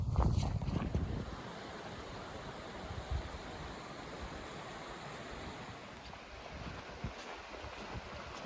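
Strong wind buffets the microphone in a loud gust at first on Jasper's Skyline Trail, then settles into a steady outdoor rush with occasional softer gusts.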